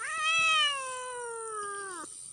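A striped cat gives one long, clear meow close up, rising then slowly falling and ending abruptly after about two seconds, with nothing else around it.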